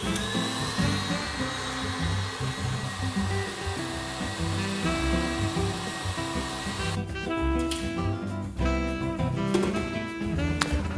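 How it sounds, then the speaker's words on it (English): An electric whisk runs on high whipping a matcha drink, a steady motorized whir that holds loud and continuous, its tone shifting near the end as the foam thickens. "Whisk on high for 2 minutes."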